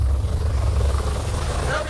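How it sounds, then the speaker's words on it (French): Helicopter returning over earthquake-struck Nepal, a steady low rotor thrum with engine whine, close and continuous throughout. "L'hélico revient."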